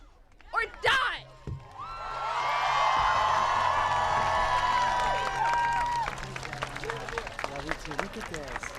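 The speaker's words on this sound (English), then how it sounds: "Another round of applause for Raina" Crowd at a climate protest in Washington DC claps and cheers in a sustained burst lasting several seconds, with whoops and voices rising over it, after a few sharp shouts at the start.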